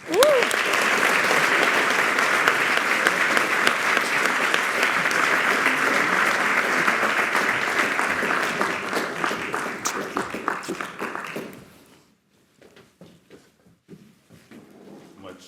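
Loud, sustained applause from a large conference audience welcoming a speaker at a business forum, steady for about ten seconds before tapering off into scattered claps and near quiet.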